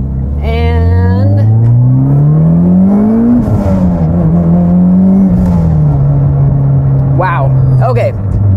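A 2008–2015 Mitsubishi Evo X fitted with a Cavalli stage 2 ball bearing turbo accelerates hard on a back road, its engine loud and close, rising in pitch through gear changes, with short hissing bursts near the end.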